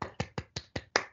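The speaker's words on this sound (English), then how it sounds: "I'm sure there are plenty of other people clapping" A single person claps after a literary reading at a book launch, seven sharp close claps in a steady quick rhythm.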